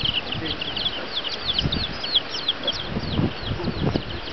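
Chickens in a village yard cluck and chatter in a busy, continuous flock, close and moderately loud, with scattered shuffling and light background noise.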